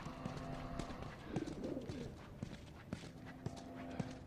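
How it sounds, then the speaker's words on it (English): A pigeon coos softly in The Last of Us, a low warbling call beneath footsteps and faint ambient noise, close but quiet. "Is that a pigeon? Does he have a pet pigeon?"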